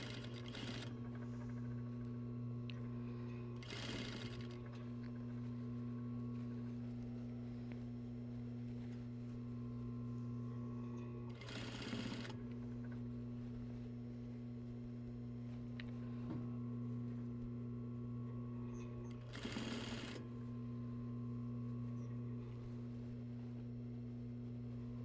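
A sewing machine runs steadily while stitching a waistline seam on a garment, giving a constant close mechanical hum with a few short louder bursts scattered through it.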